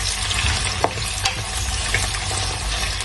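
Onions frying in oil for dhaba-style aloo do pyaza give a steady, close, dense sizzle that holds evenly throughout, with a few faint clinks and no voices.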